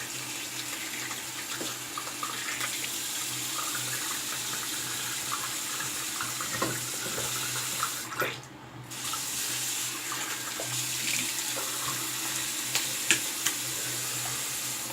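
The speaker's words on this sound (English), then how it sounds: "Rinse the brush here." Tap water runs steadily while a shaving brush is rinsed under a faucet, a close, continuous splashing hiss lasting throughout with a brief dip partway.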